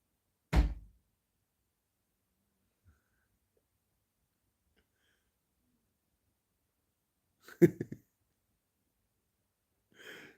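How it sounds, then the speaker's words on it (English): A door shuts with a single dull thud near the start, then long near-silence before a second, louder knock and thump of the door, followed by a faint soft sound. "Now door's shutting."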